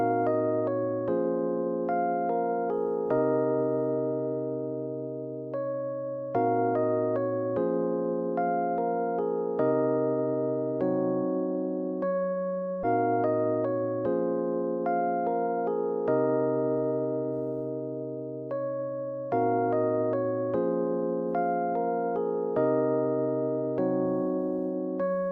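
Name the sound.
Lounge Lizard electric piano playing soulful neo soul chords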